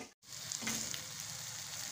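Spinach vadis (palak vadi) frying in a pan as they are turned over, a soft, steady sizzle after a brief dropout, with faint scraping as the pieces are flipped.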